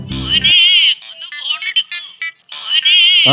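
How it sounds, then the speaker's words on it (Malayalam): A mobile phone rings loudly and close with a bright, warbling electronic ringtone that repeats in bursts, a brief pause between phrases, no voices over it. "ഫോൺ അടിക്കുന്നു"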